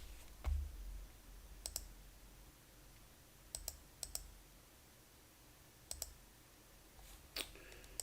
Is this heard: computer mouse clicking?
yes